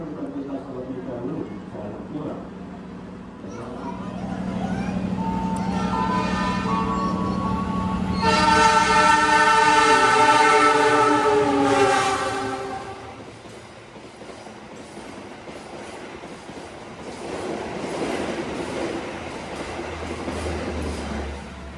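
The Argo Bromo passenger train passes through Tanjung station with a rising rumble and a long, loud horn blast, then fades to a lighter rolling clatter. People talk over it.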